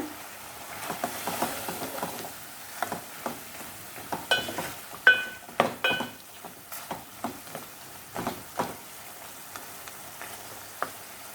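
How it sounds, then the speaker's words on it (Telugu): Mutton pieces fry in an open pan with ginger-garlic paste pounded in a stone mortar, giving a soft sizzle under irregular scraping and clacking strokes of a spoon stirring against the pan, close and moderately loud. "మూత పెట్టకుండా ఇలాగ వేయించుకుందాము అలా వేగుతుండగానే రోటీలో దంచుకున్న అల్లం వెల్లుల్లి ముద్ద"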